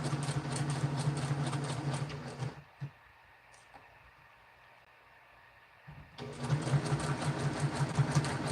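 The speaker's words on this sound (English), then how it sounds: "And I just sew all the way off, okay?" A sewing machine stitches fabric at full speed with a steady, dense mechanical whir. It stops for a few seconds, leaving quiet background, then starts up again just as loud.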